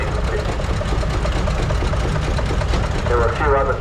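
A big vintage diesel engine, started by a pony motor and heard at a vintage tractor pull practice day, runs with a steady, rough, chugging idle up close and fairly loud, with a faint voice under it.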